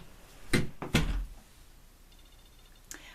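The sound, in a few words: door being shut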